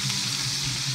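Cheese frying in a pan, a steady close sizzle and crackle running without a break and with no voices over it.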